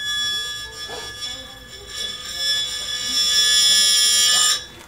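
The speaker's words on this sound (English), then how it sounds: "Now, when the ice hits the metal, let's see what happens." Dry ice pressed against a metal globe sets off a shrill, steady metallic squeal, a sustained high-pitched ringing with overtones that wavers slightly and grows louder before cutting off abruptly near the end.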